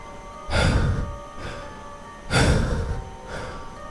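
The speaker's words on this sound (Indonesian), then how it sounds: "Napas berat seperti seseorang terengah-engah." Two heavy, breathy exhalations, close and loud, each swelling then fading, followed by a softer breath; no talking.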